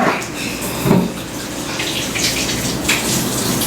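A spatula coated in zucchini bread batter is rinsed under a running kitchen faucet, a steady close gush of water with slight splashing changes as the utensil moves through the stream.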